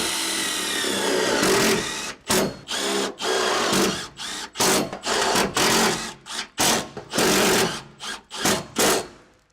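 An impact driver sinks self-tapping screws while a Sprinter van side step is installed, loud close rattling bursts in short on-off pulses with brief pauses between drives.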